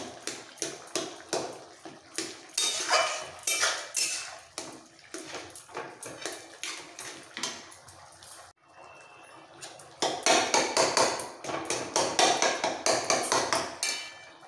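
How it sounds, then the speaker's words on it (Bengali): A metal spatula bangs and scrapes rhythmically in a pan as pav bhaji vegetables are mashed into a paste, a fast run of sharp repeated strikes, then a short pause, then a louder, denser burst. "এবার ভালো করে কষাবো আর খুন্তি দিয়ে একটু পেস্ট করে নেবো।"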